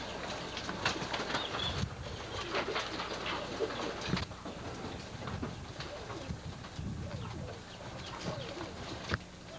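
English roller pigeons in a flying loft coo softly and shuffle, with scattered wing flaps and clattering close by over a steady, busy background murmur.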